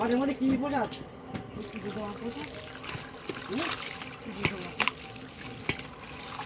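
Cold water pours and trickles at home in short splashing bursts, fairly faint and close, under ongoing conversation.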